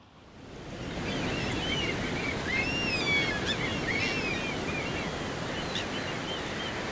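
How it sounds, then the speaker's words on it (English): Ocean waves smash against rocks on a Faroe Islands coast, a loud, continuous broadband roar of surf, with seabird calls faintly threaded through the middle. "the sound of the waves smashing against the rock"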